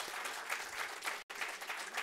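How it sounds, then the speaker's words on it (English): Brief, even applause from a conference audience for the panelists at a high-level meeting on global value chains. The clapping is broken by a split-second dropout midway. "Can we please give a loud applause to our panelists?"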